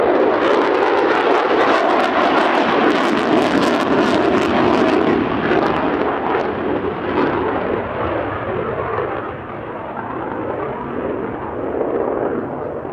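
F-35B fighter jet with a Pratt & Whitney F135 engine at the RAF Cosford Air Show, a loud roaring jet engine rumble that is strongest at first and slowly fades as the aircraft moves away.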